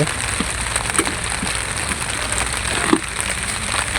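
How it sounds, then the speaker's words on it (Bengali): Heavy rain pouring at Dublar Char, a dense steady hiss of drops striking surfaces with occasional louder splats, continuous throughout. "অনেক বৃষ্টি পড়তেছে দুবলার চরে"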